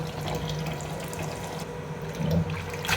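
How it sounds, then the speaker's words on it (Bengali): Chopped Malabar spinach rinsed under a running tap, a steady close wash of water with no speech over it. "এই যে ধুয়ে ধুয়ে নিচ্ছি"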